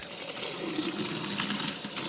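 Soap bucket being filled with water for washing a Porsche Taycan: a soft, steady gush of running water pouring in, fairly quiet and continuous, with no talking.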